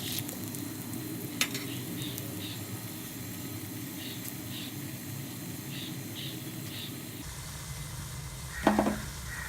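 Channa dal and urad dal sizzle in hot oil with mustard seeds, a soft steady hiss with faint crackles, then quieter with a brief stirring clatter near the end; no talk.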